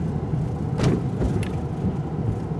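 A 2022 Mercedes-Benz C300 rolling over a speed hump in comfort mode, with a soft low thump from the suspension at impact over steady road and engine rumble inside the cabin.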